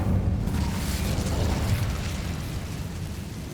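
Incendio fire spell cast in Hogwarts Legacy: a sustained whooshing, roaring burst of flame that stays loud and dense for a few seconds, then eases slightly toward the end.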